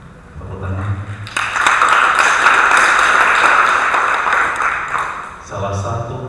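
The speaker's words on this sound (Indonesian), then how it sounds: "Tepuk tangan." Audience applause at the closing worship service of a theology faculty's 53rd anniversary celebration, a dense sustained burst of clapping lasting several seconds, framed by speech before and after.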